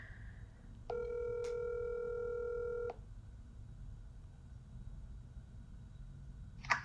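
Telephone keypad dialing on a phone call, heard as a steady two-second run of touch tones followed by quiet line hiss and a brief chirp at the end.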